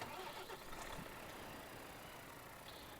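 A truck engine in the video game Farming Simulator 15 idles with a low, even mechanical hum that holds steady throughout, fairly quiet, with no clear talk over it.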